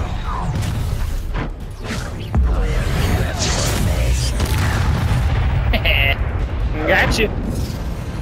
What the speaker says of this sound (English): Oh jeez, he exploded.